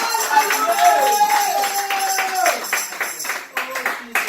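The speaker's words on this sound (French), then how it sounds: "Acclamons chaleureusement l'Éternel pour la révérende Shekinah." Church congregation applauding during a Sunday service, rhythmic hand claps from many people under a loud voice speaking into an amplified room, the clapping growing more distinct toward the end.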